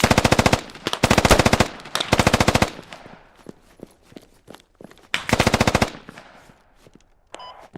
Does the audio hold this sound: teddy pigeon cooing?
no